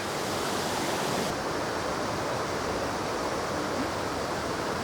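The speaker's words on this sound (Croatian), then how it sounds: "Imamo odličan pogled na rijeku Ljutu" The Ljuta river flowing beside the Konavoski dvori restaurant, a steady broadband rush of water, even and continuous, with no voices.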